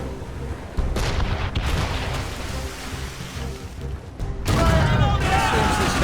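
Ship cannons firing during a naval battle in Assassin's Creed Rogue, heavy booming blasts that roll into dense, continuous rumbling gunfire, with a fresh loud salvo near the end, while voices shout over the battle.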